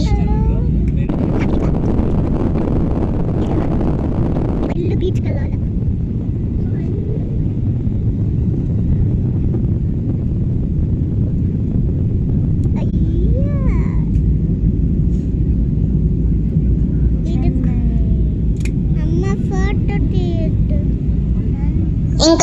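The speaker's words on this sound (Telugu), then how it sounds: "మా ఫ్లైట్ ల్యాండ్ అయిపోయింది ఫ్రెండ్స్." A steady low rumble fills an airplane cabin after the flight has landed in Chennai, with engine and air noise droning on and passengers speaking over it at intervals.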